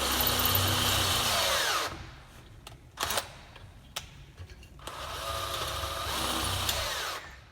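A Bosch cordless drill whirs loudly for a couple of seconds while drilling a broken bolt, stops, gives a few short clicks and bursts, then runs steadily again before winding down.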